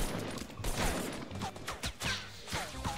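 Gunfire in the Fortnite video game, rapid bursts of shots and sharp cracks in quick clusters with whistling tones, fairly close and loud, with no speech over it.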